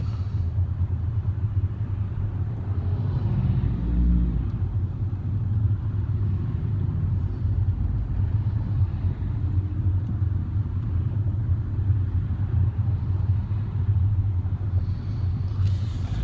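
Slow road traffic crawls along at a few miles an hour, with a steady low rumble of car engines heard from inside a vehicle, continuous and fairly loud, with no talking.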